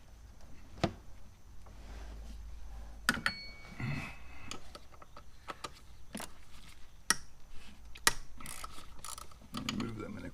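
A hand ratchet with a short extension and 5/16 socket backs out throttle body bolts on a 2001 Ford F150, giving several separate bursts of clicking ratcheting spread across the clip, close and moderately loud, with no talking.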